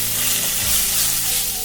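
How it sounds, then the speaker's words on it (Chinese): Seasoned chicken, flavoured with sugar, salt and ginger slices, fries in a pan with a loud, steady hiss and sizzle close up and no voice over it. "把调好味的鸡肉倒进锅里煎"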